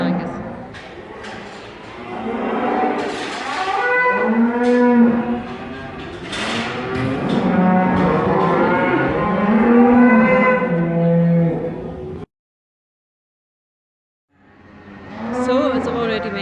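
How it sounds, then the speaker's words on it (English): Cattle from a Limousin and Aberdeen Angus cross breeding and finishing herd on an Edinburgh farm, lowing in long, drawn-out moos that rise and fall, fairly close, with a short silent gap before another call. "we have the breeding herd on site here, but we also have finishing cattle"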